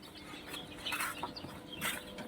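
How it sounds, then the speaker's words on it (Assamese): Newly hatched chicks chirp and cluck close by as they are given feed and water, with brief bursts of peeping and light rustling over a steady low background. "সিহঁতক দানা পানী দিলোঁ।"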